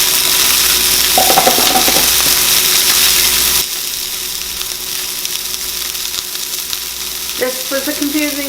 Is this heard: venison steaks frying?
yes